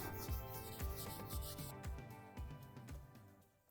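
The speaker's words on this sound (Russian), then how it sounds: "Хорошенько протираем поверхность от пыли." A cloth rubs dust off a polished black and white marbled Venetian stucco wall, a series of close, soft swishing strokes in a steady rhythm that trails off toward the end.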